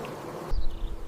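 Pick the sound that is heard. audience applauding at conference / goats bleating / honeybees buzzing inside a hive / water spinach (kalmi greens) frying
honeybees buzzing inside a hive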